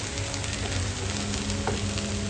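Two eggs frying in a pan alongside onion and tomato, a dense, even sizzle close up with faint scraping, steady throughout and free of talk.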